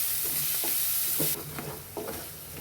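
Crushed ginger and garlic frying in oil in a pan for Schezwan chutney: a constant hissing sizzle with a few soft scraping strokes of a spoon stirring, close and fairly quiet, no voices.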